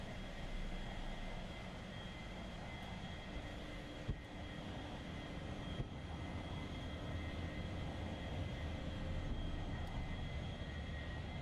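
A small airplane's engine drones steadily from inside the cockpit with a constant hum and faint tonal whine that shifts slightly in pitch as the throttle is adjusted, with no talk.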